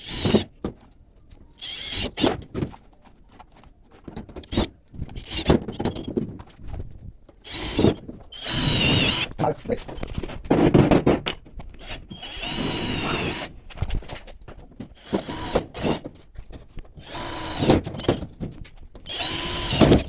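Nails being fastened into the corner of a damaged oven tray, a string of short, sharp tapping and drilling bursts with uneven pauses between them, close and fairly loud.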